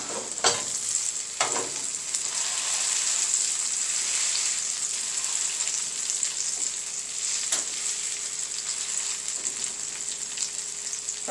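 Vegetarian burger patties made with egg fry in a pan, a continuous close sizzle with occasional sharp taps and scrapes from a utensil, no talking.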